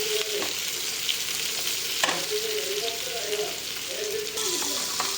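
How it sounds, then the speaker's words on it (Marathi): Onion sautéing in a pan for a tawa egg masala, a steady broadband frying sizzle throughout with a few louder stirring scrapes at intervals, close and continuous with no talking. "त्यात टाकायचा कांदा। मस्त कांदा पण परतून घ्यायचा।"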